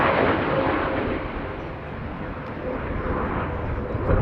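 An F-18 fighter jet on a slow pass at an air show, a steady loud broadband engine roar that fills the whole clip with little change in level.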